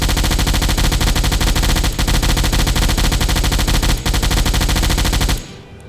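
A submarine deck gun firing in the video game Silent Hunter IV. The shots come as a loud, nonstop, rapid burst of rattling gunfire for about five seconds, then cut off abruptly and leave a faint fading tail.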